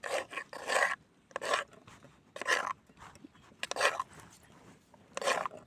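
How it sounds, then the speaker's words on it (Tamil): Cake batter with vanilla essence being mixed by hand in a bowl, rhythmic bursts of close scraping and sloshing strokes separated by short pauses, no talking. "நல்லா மிக்ஸ் பண்ணிக்கலாம்."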